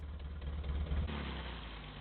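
A Nimbus 750 inline four-cylinder motorcycle engine running nearby, a steady low rumble that swells briefly around the middle and then settles back to an even throb.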